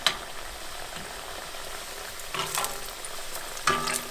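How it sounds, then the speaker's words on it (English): Seitan steak frying in plenty of oil in a cast iron pan, a steady low crackle with a couple of sharper spits and spoon scrapes near the end. "just put your seitan steak into the oil"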